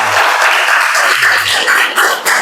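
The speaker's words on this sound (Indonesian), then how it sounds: "beri tepuk tangan dong untuk Sheila" A classroom of students claps for a classmate in one brief, loud burst of scattered applause that fills the room.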